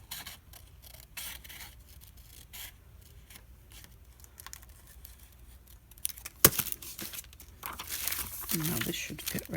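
Scissors snip along a line through paper for an envelope tag, producing soft, irregular crinkling and cutting sounds close up, growing louder and rougher toward the end.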